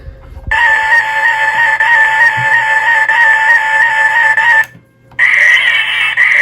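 A loud electronic toy siren from a Ghostbusters Ecto-1 toy car wails in a steady high tone, cuts out briefly, then resumes with a shifted pitch.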